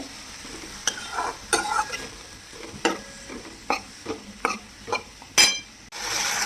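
A spatula stirs green onions frying in a pan, making a series of sharp scraping strokes at an uneven rhythm, close and distinct over a soft sizzle.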